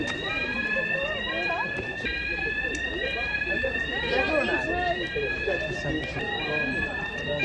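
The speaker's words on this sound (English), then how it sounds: "The fire alarm's going off in Jurassic Coast ParkDean Resort." Fire alarm sounding at the Jurassic Coast Parkdean holiday resort, a loud repeating electronic sweep tone that continues throughout, with several people talking and chattering over it nearby.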